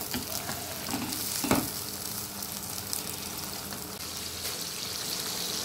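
Prawns frying in a pan for a Bengali-style bhaja, giving a steady, dense sizzle close by with faint stirring scrapes and no voices.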